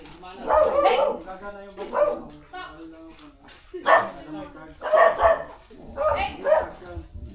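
Several sharp dog barks in bursts, fairly close, with people talking over and between them.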